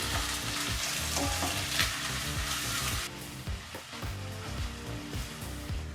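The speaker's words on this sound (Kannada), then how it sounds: "ಬಿಸಿಯಾದಂಥ ಎಣ್ಣೆಗೆ ನಾವು ಕಟ್ ಮಾಡಿರ್ತಕ್ಕಂಥ 2 ಈರುಳ್ಳಿಗಳನ್ನ ಸೇರಿಸ್ಕೊಂಡು ಒಂದು 2 ನಿಮಿಷಗಳ ಕಾಲ ಫ್ರೈ ಮಾಡ್ಕೊಳ್ತೀವಿ ಎಣ್ಣೆಯಲ್ಲಿ" Chopped onions frying in hot oil over a medium flame, a loud, dense, steady sizzle with clattering stirring throughout; the hiss drops somewhat halfway through while the crackle and scraping continue.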